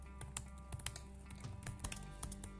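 A computer keyboard typed on quickly, irregular crisp key taps close by and fairly quiet, with short bursts and pauses.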